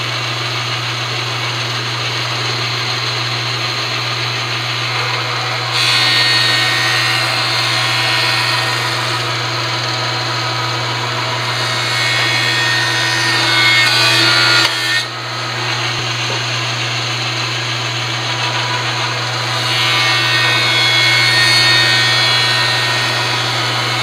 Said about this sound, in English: I'm going to put that side down right through my planer and see what happens to the other side.